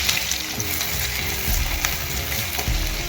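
Onion tipped into hot oil already crackling with popped mustard seeds and cumin, for a potato filling for masala dosa, giving a loud, steady, close sizzle with scattered crackles throughout.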